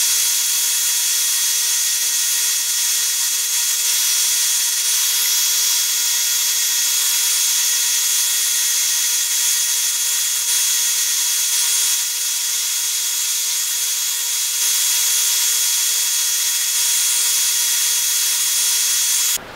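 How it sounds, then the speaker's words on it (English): Power sander running steadily on the edge of a wooden Strat-style guitar neck in a luthier's workshop, a loud, continuous high-pitched whir with no breaks and no talking. "What I'll do is I'll take this on my sander now and clean up the edge here."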